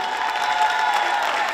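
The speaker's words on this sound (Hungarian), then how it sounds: "Nagy tapsot Ildikónak, köszönjük!" Audience applause at a women's carnival evening event, with brief, loud, dense clapping from a crowd and a faint steady tone underneath.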